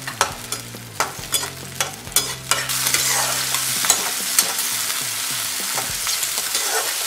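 Capsicum and frozen peas stir-fry in a pan, opening with a run of rhythmic scraping stirs and then settling into a strong, steady sizzle with occasional spatula knocks.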